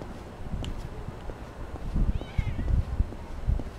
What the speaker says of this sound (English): There's another cat?